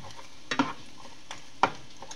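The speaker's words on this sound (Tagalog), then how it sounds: "Pinapupula-pula ko muna yung bawang." Garlic browning in a frying pan, a low constant sizzle broken by a few sharp scrapes and taps of a utensil stirring against the pan, with no talking.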